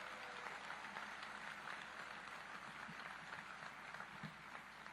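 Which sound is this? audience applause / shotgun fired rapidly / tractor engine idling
audience applause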